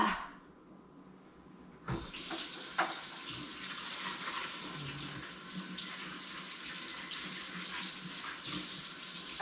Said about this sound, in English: I'm going to go run some hot water on this.